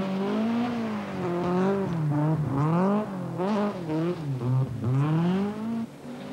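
Vauxhall Chevette rally car on a Welsh special stage in 1982, engine wailing and revving hard through gear changes and lifts, loud and close, with rising and falling pitch as it works along the stage.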